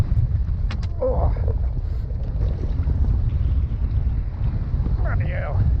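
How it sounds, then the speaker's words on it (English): Strong wind at Farmoor reservoir in March, roaring and buffeting the microphone loudly and continuously through the whole clip, with brief faint sounds over it. "it's windy"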